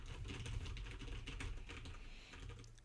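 Rapid, uneven keystrokes on a computer keyboard mixed with mouse clicks, picked up close by a cardioid dynamic microphone, continuous throughout with a brief lull near the end and no talking.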